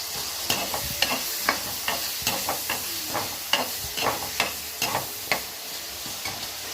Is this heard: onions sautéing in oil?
yes